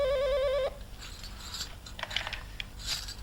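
A telephone rings in a Pakistani television drama scene, one short warbling electronic ring that cuts off after about half a second, followed by faint room noise and rustling.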